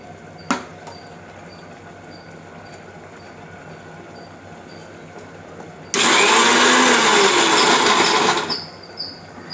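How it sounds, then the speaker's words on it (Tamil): A kitchen mixer grinder blending tomatoes runs in one loud, steady whirring burst of about two and a half seconds, starting abruptly and then stopping, with quiet room sound before and after. "நீங்கள் தக்காளியும் பாதி அரைச்சிக்கலாம்"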